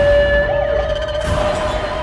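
A police siren wails loudly and steadily nearby, its tone rising and wavering briefly, with no one speaking.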